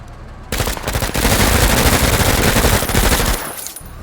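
Automatic gunfire in the video game Menace, a loud, sustained rapid burst of rounds lasting nearly three seconds before cutting off into quiet.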